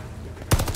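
A sudden, close, loud burst of rapid weapon fire in Call of Duty Vanguard breaks a quiet moment and rattles out in quick repeated shots within a split second.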